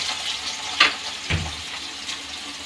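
Soybean chunks frying in hot oil in a pan give a steady, close hiss of sizzling, broken by a couple of brief clattering knocks.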